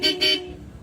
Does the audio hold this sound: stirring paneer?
no